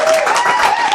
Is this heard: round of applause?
yes